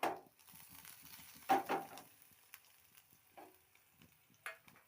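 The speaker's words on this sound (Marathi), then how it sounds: "आता कांदा टाकू. कांदा छान असं परतून घेऊ." Onion tossed and sautéed in a hot pan alongside green chilies, a soft steady sizzle with a few louder stirring scrapes and clatters near the start and middle, close and fairly quiet, no voices.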